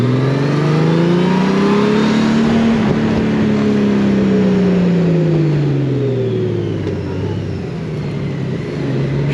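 A car drives in slow traffic on the national road between Maia and Vila do Conde, its engine droning steadily and loudly from inside the cabin, rising and falling in pitch as it eases along.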